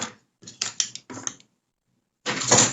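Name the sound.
sewing machine stitching denim slipper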